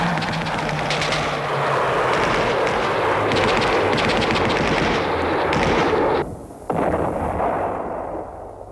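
Heavy gunfire rattles from guns posted along city walls during the Six Day War in June 1967, with continuous loud machine-gun bursts and booming shots filling the scene before a brief lull and more firing.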